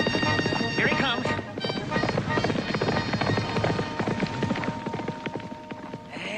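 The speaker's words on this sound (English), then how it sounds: "Gonna take a mighty good horse to beat him." A horse runs past at speed in a TV western, its rapid hoofbeats thudding through a busy, loud mix along with other noise and dialogue-like sounds.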